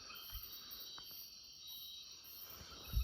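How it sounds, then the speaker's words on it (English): Night insects and crickets buzz in a steady high drone along a jungle trail, faint and continuous, with a few soft rustles and knocks nearby. "Plenty of bugs."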